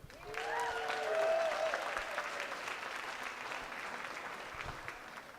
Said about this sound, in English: Could we have a round of applause for Abigail, please?